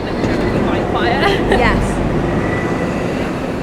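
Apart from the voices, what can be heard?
train on a match day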